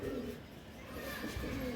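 Soft, low cooing from racing pigeons comes at the start and again near the end over a constant background murmur, fairly close and unaccompanied by speech.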